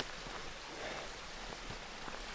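Creek water running at a crossing on Horn Canyon Trail near Ojai, California, a steady rushing wash with small splashy pulses, moderately close and heard alone without talk.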